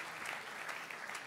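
An audience applauds a chef in a brief, soft patter of clapping that carries on evenly for about a second, faint and at a distance.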